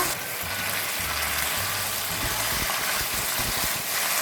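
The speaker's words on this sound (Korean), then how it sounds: "그러신 다음에 한 번 더 살짝 볶아주시면 되거든요." Bracken fern stir-fried in a pan with cut noodle strips, a steady broadband sizzle running throughout with a low engine-like hum underneath and no talking.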